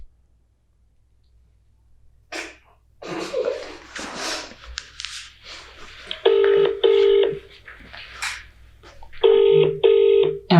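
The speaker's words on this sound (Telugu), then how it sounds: "వాడికి కాల్ చేద్దామా?" A phone call is placed: soft handling sounds and breaths, then a ringback tone repeats in clear evenly spaced bursts, loud and close, with brief murmurs in between.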